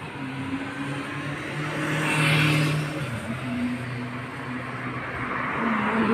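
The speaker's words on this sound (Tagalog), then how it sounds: "Bilis ng sasakyan dito" Fast cars passing on a street in Bugis, Singapore, near Arab Street: steady traffic hum with an engine roar that swells and fades as a vehicle drives by, moderately loud outdoors.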